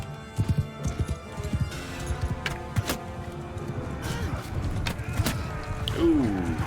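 Horses in the video game Mount and Blade Bannerlord clatter with rapid clip-clopping hoofbeats, followed near the end by a rising neigh, with battle noise in the background.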